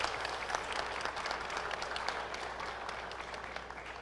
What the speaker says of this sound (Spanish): Aplauso para Marcio.